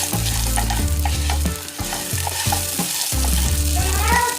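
Vermicelli (seviyan) browning in a pan with cardamom, the sizzle overlaid by loud, rhythmic scraping and clanking strokes of a spoon stirring against the pan, repeated about every second.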